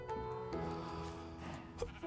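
A Minecraft sheep in a vanilla Bedrock survival game bleats faintly under game music, with a couple of short wavering calls.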